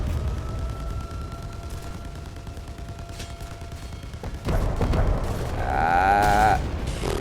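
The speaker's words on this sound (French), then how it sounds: "c'est bien espace pour lâcher les grenades" Bombs dropped from a plane explode in the Roblox game War Thunder: an engine drone, then a sudden deep boom and sustained rumbling blasts, loud and close.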